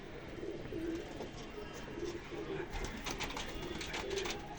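Pigeons coo in repeated soft, low bursts close by, a steady murmur of several birds with faint background noise and no talk.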